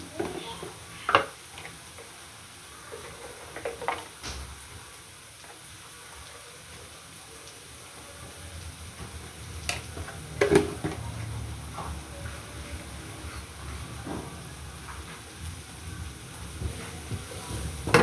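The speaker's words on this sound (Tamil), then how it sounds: "நல்லா பிரட்டி விடுவோம்." Chicken fried rice being stirred and tossed in a pan, giving a steady low sizzle with occasional scrapes and clinks of the spoon against the metal.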